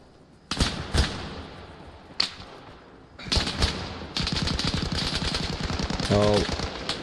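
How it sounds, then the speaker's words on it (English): Gunfire from a 20 vs 20 competitive Arma Reforger match: a few sharp single shots give way to sustained rapid automatic bursts, with voices talking in places. "Someone's dropping some shots, Ghoul."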